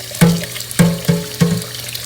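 Water is poured from a tap into a pot of rinsed rice in four short splashing bursts with brief gaps between them, heard up close.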